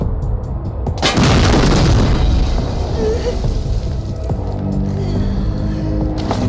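An oil tank is attacked in the Wasteland 3 video game, setting off a loud, booming explosion that rumbles on and decays over several seconds.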